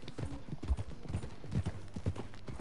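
Horse hooves clip-clop steadily in Red Dead Redemption 2, a rhythmic run of close, fairly loud thuds and knocks over a soft outdoor game ambience.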